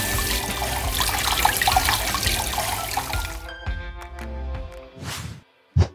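Tap water runs steadily over an eggplant being washed in a kitchen sink, a loud splashing rush that stops partway, leaving a few drips and clunks, with no talk.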